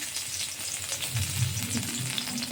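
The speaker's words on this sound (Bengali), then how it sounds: "সর্ষের তেল কালো জিরে আর রসুন এবার ভালো করে ভেজে নিতে হবে" Mustard oil with black cumin seeds and chopped garlic fries in a hot wok, giving a steady, close, crackling sizzle with a few stir scrapes and no talking.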